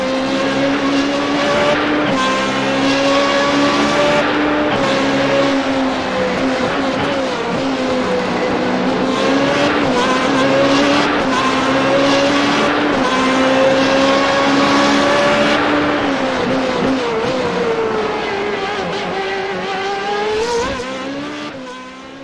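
Formula 3.5 single-seater race car at Imola, its high engine note rising and falling loudly through sector two's chicanes and corners, a continuous close roar with gear changes and no voices.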